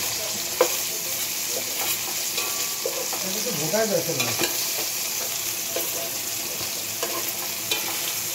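Eggplant slices frying in oil in a pan, sizzling steadily while being flipped over with a utensil, with scraping and turning sounds partway through over the continuous hiss.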